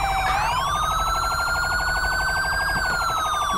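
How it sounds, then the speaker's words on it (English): A sheriff police car siren in Grand Theft Auto V with the LSPDFR mod wails loudly and steadily, its pitch rising, holding, then gliding down, heard up close and alone without talk. "Is that my siren?"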